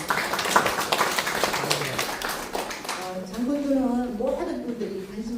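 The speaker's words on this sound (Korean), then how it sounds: "회장님께 다시 한번 큰 박수 부탁드립니다" Audience applause for the presenter at a public debate on restoring the Janggundo sea route in Yeosu, a spatter of clapping across the hall at first, fading as a voice begins speaking over it.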